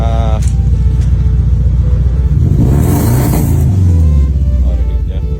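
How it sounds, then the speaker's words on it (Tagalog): A Hyundai Elantra engine with a misfire idles roughly with an uneven, stumbling rumble, only three cylinders firing, then revs up briefly before dropping back, loud and close, with a voice under the engine. "Yan ang tunog ng misfire."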